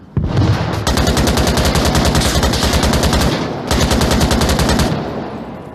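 Long sustained bursts of automatic rifle fire in the VR shooter Onward, loud and close, two extended strings of rapid shots separated by a brief pause, with no talking.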